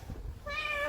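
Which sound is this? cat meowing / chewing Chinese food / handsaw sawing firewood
cat meowing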